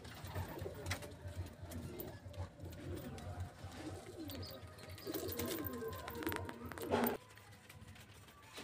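Giribaz high-flying pigeons coo faintly inside a loft, low murmuring calls over soft shuffling and background noise.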